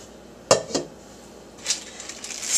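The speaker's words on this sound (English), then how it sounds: "Again, vented lid." Lid of a T-fal nonstick pot handled, with two sharp metallic clinks close together near the start, then lighter clatter and rattling a moment later, no talking.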